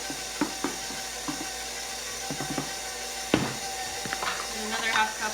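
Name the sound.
mixer mixing bread roll dough in bowl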